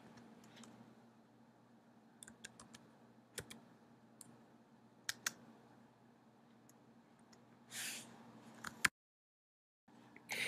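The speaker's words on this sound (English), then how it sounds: "Now this was a little bit tricky typing that in." Faint, sparse clicks of typing on a computer keyboard, scattered individual key taps over a low steady background hum with occasional brief louder noises.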